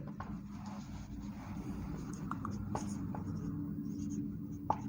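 Pen or pencil writing out a Class 10 math solution on surface area and volume, a steady faint scratching that runs continuously under low background hum, with a few light taps.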